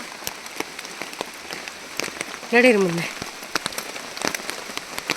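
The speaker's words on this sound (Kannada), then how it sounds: "ಮಳೆ ಬರ್ತಾ ಇದೆ" Rain falling in a village, a steady patter that runs throughout, with a person speaking briefly over it close by.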